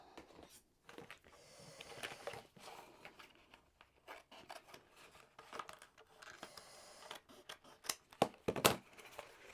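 Crisp snipping and rubbing of scissors cutting a small circle out of fabric for sewing Christmas pajamas, close by, in short irregular bursts with a louder cluster of cuts near the end.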